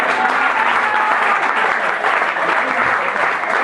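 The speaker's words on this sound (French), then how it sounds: "Tu vas applaudir pour toi." A church congregation at a prophetess-led deliverance service breaks into steady, dense applause, loud and sustained throughout with no pauses.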